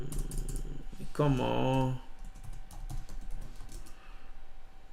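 Computer keyboard typing taps along, quick and close, with a person speaking briefly over it midway before the clicks continue alone.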